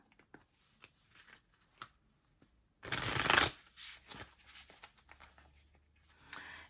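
Oracle cards being shuffled by hand during a tarot-style reading, one brief, close, papery riffle burst after quiet rustles, followed by a few softer card taps and slides.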